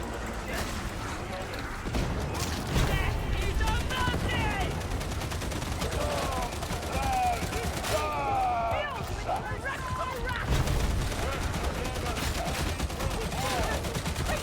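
Auto gun gunfire in Warhammer 40,000: Darktide, a dense, continuous rattle of rapid shots running the whole stretch amid chaotic combat noise and shifting whistling tones, with a player's voice talking over it.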